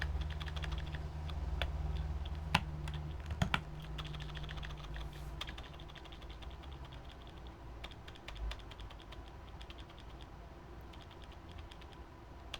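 Close typing on a mechanical keyboard, steady clacking keystrokes with a few sharper louder key or spacebar hits, over a low background hum and with no talking.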